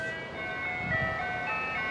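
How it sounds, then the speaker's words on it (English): An ice cream truck plays its tinkling melodic jingle at a moderate distance, steady and faint against quiet outdoor background. "Oh, now we have the ice cream truck."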